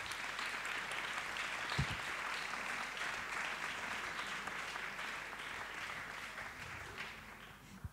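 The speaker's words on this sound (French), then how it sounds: "vous pouvez l'applaudir." Audience applause for a prize winner at a youth climate-challenge awards event: steady, dense clapping throughout, moderately close and fading slightly near the end.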